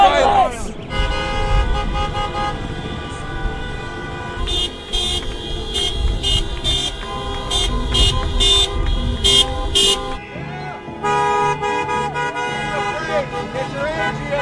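Car horns honk repeatedly at a street protest near Staples Center, short and long toots overlapping amid traffic noise, with voices from the crowd underneath.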